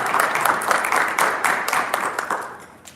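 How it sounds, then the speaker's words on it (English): Audience at a city code enforcement event applauds for officers, a brief stretch of steady, fairly loud clapping that thins slightly toward the end. "give them a round of applause for the hard work"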